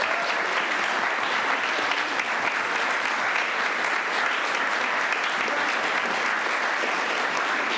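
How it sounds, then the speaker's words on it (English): A crowd at a county volunteer recognition ceremony applauds continuously, dense even clapping with no break, fairly loud and unaccompanied by talk. "Let's give one more round of applause for all of our volunteers today"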